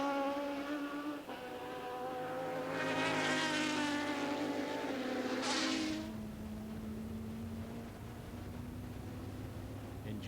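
Two Ferrari 550 Maranello GT race cars run close together at Spa, their engines droning loud with rising and falling harmonic whine, and commentary runs over the top.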